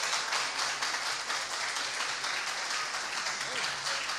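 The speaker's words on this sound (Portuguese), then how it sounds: "Solicito a todos os presentes uma calorosa salva de palmas para todos os" Steady wash of applause from those present at a municipal council session after the election of its members, a dense, even clapping sustained throughout, fairly distant and moderate in level.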